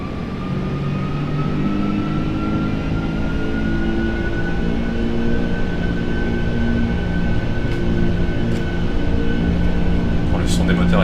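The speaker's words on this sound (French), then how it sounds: "le son des moteurs est quand même pas mal du tout" Airliner engines in the X-Plane 12 flight sim roll along the runway on takeoff, a steady loud roar with a rising whine layered over low rumble, under someone speaking.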